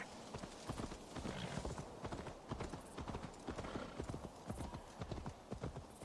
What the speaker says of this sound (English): Come on, please go faster, horse